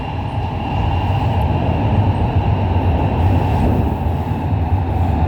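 Shenzhen Metro Line 8 CRRC train running, heard as a loud, steady low rumble of wheels and motors on the track with constant rushing noise throughout and no speech.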